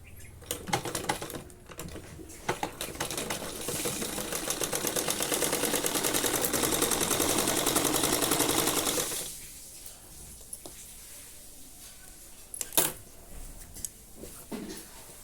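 A sewing machine runs in a steady, rapid burst of several seconds while stitching a one-inch folded waistband on a Patiala salwar, framed by a few short stop-start runs before and after, close and clear.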